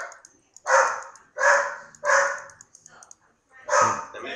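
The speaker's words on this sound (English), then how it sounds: "A dog in the video, it's because my dog is barking." A pet dog barks indoors in a handful of loud, separate woofs spaced about half a second apart, with short yips between, heard close by over game audio.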